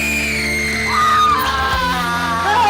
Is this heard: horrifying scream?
yes